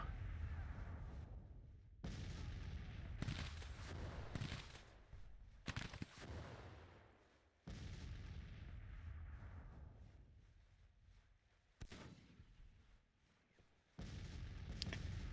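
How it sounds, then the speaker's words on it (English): Artillery fire booms in the Civil War strategy game Grand Tactician, as a series of heavy cannon blasts at irregular intervals, each followed by a long rolling rumble that fades before the next. "I'm not gonna withstand their artillery for very long."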